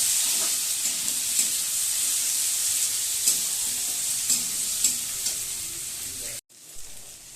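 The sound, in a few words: tomato and chilli frying in a pan for egg tadka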